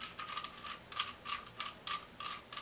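A metal mount for a Netgear Arlo Pro camera being screwed on, giving a steady run of close, crisp ratcheting clicks in short bursts, with no voices.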